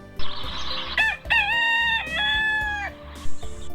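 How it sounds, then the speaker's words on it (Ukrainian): A domestic rooster in a farmyard crows loudly and close by, one long drawn-out cock-a-doodle-doo, with short clucks just before and after. "Півник голосно співає."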